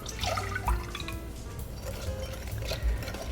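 Milk poured from a measuring cup into a mixing bowl while making pastry cream in a kitchen, a soft liquid splash and trickle close by with faint clinks, no talking.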